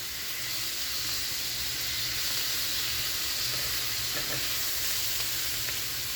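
A chicken and cabbage stir fry sizzles steadily in a hot pan while being stirred, a loud, constant frying hiss with faint scraping of the utensil, no voices.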